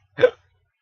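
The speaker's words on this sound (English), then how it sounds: "Freaking hiccups." A single short hiccup, close and fairly quiet, a quick voiced catch lasting a fraction of a second, then silence.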